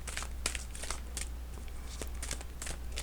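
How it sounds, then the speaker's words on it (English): A deck of Secret Language of Color oracle cards is shuffled by hand, a steady close run of papery riffling and sliding card noise with soft crinkles, with no talk over it. "I'm shuffling now the last deck, which is the Secret Language of Color cards"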